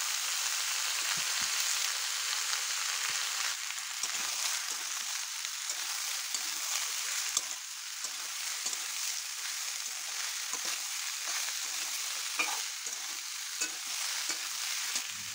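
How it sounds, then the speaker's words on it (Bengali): Boiled jackfruit frying in a pan with garam masala, dried red chilli, bay leaf and five-spice seeds, giving a dense, continuous hiss of sizzling oil with faint crackles and occasional soft stirring ticks throughout. "এখন দিয়ে দিচ্ছি সেদ্ধ করে রাখা এঁচোড়টা।"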